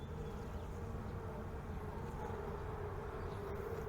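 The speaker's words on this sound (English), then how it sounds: "I see a bunch of bees running around." Honey bees buzz over a frame of brood lifted from a Langstroth hive, making a faint, continuous low drone with a steady hum and no voices.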